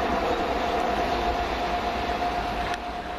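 A London Underground Piccadilly line train runs past at Stamford Brook, giving a steady, continuous rumble with a faint high whine, close and unbroken for the whole stretch.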